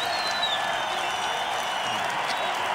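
Concert audience applauding at a show, a steady, dense wash of clapping that holds evenly across the whole stretch without pause.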